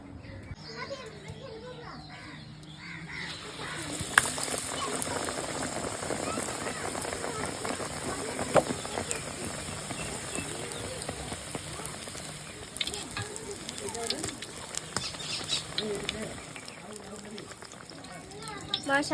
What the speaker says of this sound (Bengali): এবার চলো বেগুনিগুলো ভেজে নেব।